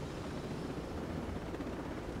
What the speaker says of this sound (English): I like my old helicopter a little bit better, the one that could fire stuff at them.